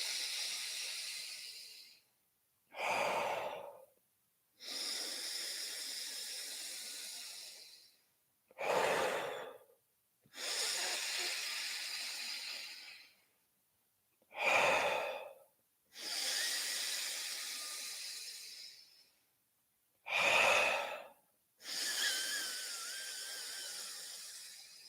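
Deep cleansing breaths during a morning breathing exercise: slow, long airy exhalations alternate with shorter, sharper intakes in a regular rhythm, about eight breath sounds in all, close and soft, with no voice over them.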